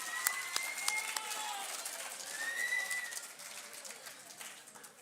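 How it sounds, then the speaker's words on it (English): Audience applause at a junior high school academic awards ceremony, steady scattered clapping heard from a distance, with a few voices calling out over it. "give them one last round of applause"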